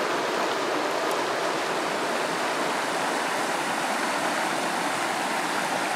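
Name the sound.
river rapids flowing in Swedish Lapland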